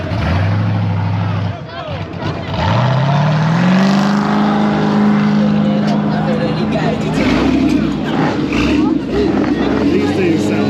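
A big-single-turbo Mazda RX-7 engine idles, then revs up into a loud, rising, sustained roar at close range, with voices talking over it at a car meet.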